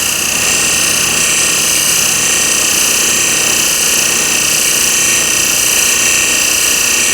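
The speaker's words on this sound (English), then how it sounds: "go to grinder and put a fresh burr on" A grinder sharpens a carbon steel blade to raise a burr, giving a continuous loud, hissing whine with a constant grinding rasp and no pauses.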